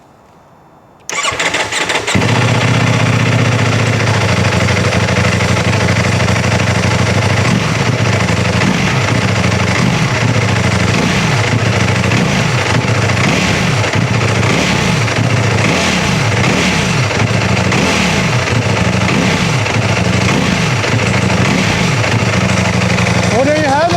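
A Ducati Panigale sport bike with an Akrapovic or Termignoni full aftermarket exhaust cranks and fires up in neutral, then idles loudly with repeated sharp throttle blips rising and falling, close by, while a voice talks over it.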